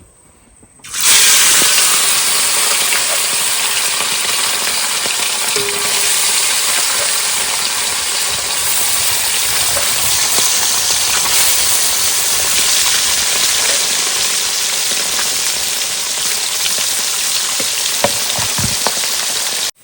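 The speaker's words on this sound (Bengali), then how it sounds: "এবার মাছ ভাজবো" Fish sizzles loudly in hot oil in a pan on a Sundarbans riverside cooking trip, starting abruptly and then holding a steady, dense hiss close up with no talk.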